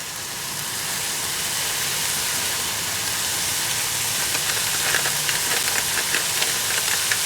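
Ground beef browning for tacos in a pan in an RV kitchen, giving a steady, loud, close sizzle that hisses continuously throughout, with a slightly crackly texture building toward the end.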